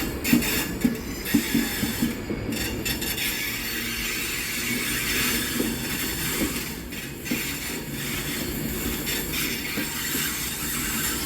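A Class 156 train rolls past at Carlisle on the West Coast Main Line, a steady rumble with rhythmic wheel clicks over the rails and occasional faint squeals, close and continuous throughout.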